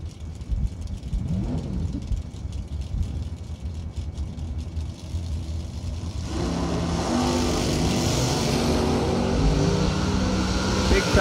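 Drag racing car launching hard with a big wheelie at a Christmas bracket race, a rising engine roar that surges loud midway, with an announcer talking over the track noise.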